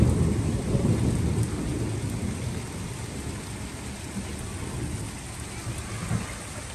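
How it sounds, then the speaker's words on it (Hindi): Heavy thunderstorm rain pours down steadily at close range, a dense continuous wash of drops with low rumbling thunder underneath, loud throughout with no voices. "एग्जैक्ट सालगिरह के टाइम पर जो है ना तूफानी बारिश स्टार्ट हो गई, जो अभी आप लोगों ने देखी।"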